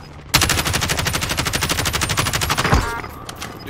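Sustained machine gun fire in the Call of Duty Modern Warfare battle royale video game, a long, steady stream of evenly spaced rapid shots that starts abruptly, runs for about two and a half seconds, then ends with a heavy thud and fades.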